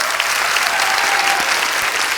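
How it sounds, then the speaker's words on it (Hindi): A TV studio audience claps steadily and loudly, a dense wash of applause filling the whole moment. "इनके लिए जोरदार तालियां।"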